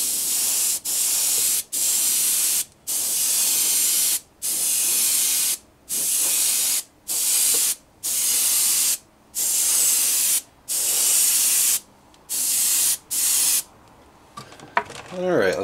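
An airbrush sprays iridescent bright gold scale paint onto a jointed pikie minnow fishing lure in a series of steady hissing bursts separated by short pauses, loud and close.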